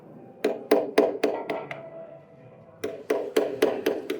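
Sharp metallic taps ring out in quick, even series with a short pause between runs, like a small hammer striking a brass plate up close.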